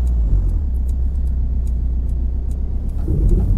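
A diesel-sounding engine from a modded Mercedes 190E car in American Truck Simulator, a steady low rumble that holds throughout and swells a little near the end as it pulls harder, with no talking.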